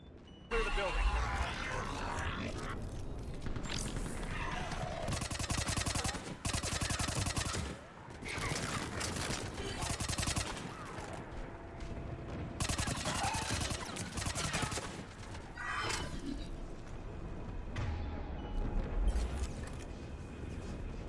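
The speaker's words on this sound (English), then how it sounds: "We're taking heavy fire from the second story." Heavy gunfire in Mass Effect 3, with bursts of automatic rifle fire and rapid volleys crackling nearly nonstop and loud throughout a firefight, while voices talk underneath.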